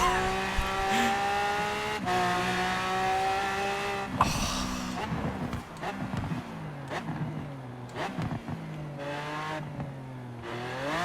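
A Lamborghini Aventador with a V12 engine is driven in Forza Horizon 4, its engine rising and falling through repeated gear changes and revs, with brief tire squeals, loud and continuous, with no talking.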